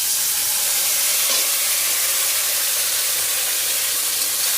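Paste of ginger, cumin, mustard seed and green chilli frying in hot oil for fish curry, a steady broadband sizzle and hiss held at even level throughout, close and fairly loud, with no talking.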